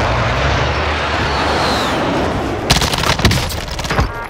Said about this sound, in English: I just got sniped from the back.